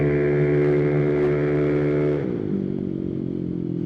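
Loud, heavily modified Italjet Dragster 300 scooter engine idling close by, a steady buzzing drone that drops in pitch and settles lower partway through, with no talk over it.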